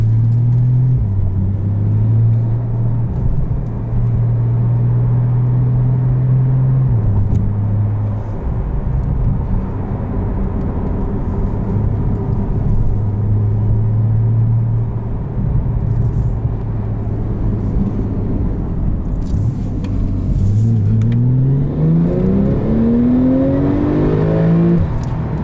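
A 2019 Porsche 911 Turbo drives with a loud, continuous engine drone heard from inside the cabin, holding steady then revving up near the end as it accelerates.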